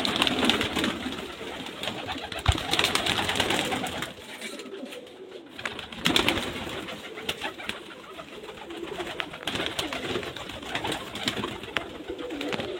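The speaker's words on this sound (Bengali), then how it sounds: "পায়রা বাইরে অনেক পায়রা ছাড়া আছে" Many pigeons, including giribaz birds kept loose outdoors in Murshidabad, coo in overlapping soft, throaty calls with a constant close-up murmur and a short quieter pause midway.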